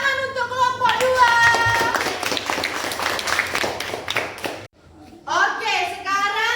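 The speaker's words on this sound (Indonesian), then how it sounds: "tepuk tangan untuk kelompok 2" Children in a classroom magnet lesson clap for group 2, sharp, close claps ringing out amid lively children's voices, followed by a brief lull and then more voices.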